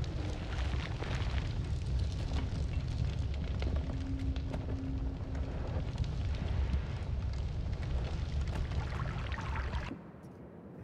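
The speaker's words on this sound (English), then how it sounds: "There's a bunch of explosions" Explosions in the Noita pixel-physics game form a dense, continuous crackling rumble with rapid overlapping bursts for about ten seconds, then cut off abruptly, leaving faint residual noise.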